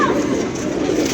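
Pigeons being watered and fed coo nearby in a soft, continuous rolling murmur.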